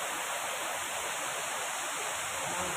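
A waterfall beside a riverside glamping campground near Curug Pangeran, Bogor, gives a steady, even broadband rush of falling water with no breaks, moderately distant and alone.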